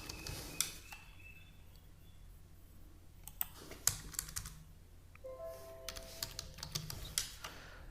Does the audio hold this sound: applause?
no